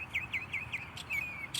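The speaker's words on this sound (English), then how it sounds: "It's a really pretty bird." Small songbird in morning birdsong, a quick series of about five bright, clear chirps followed by a longer whistled note and a final sharp call, close and fairly loud over faint background hiss.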